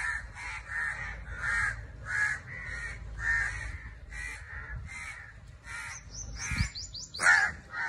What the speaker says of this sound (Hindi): अब ये कौवे बैठे हैं ऊपर, इधर इन्होंने बच्चे दिए हुए हैं